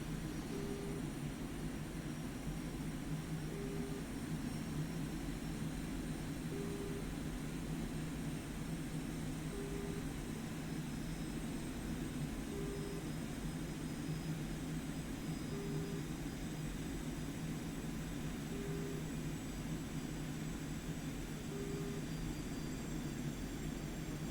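An Su-25A jet in the DCS World flight game holds a steady, continuous engine drone with a faint high whine throughout. A quiet periodic beep repeats every few seconds, and no one talks.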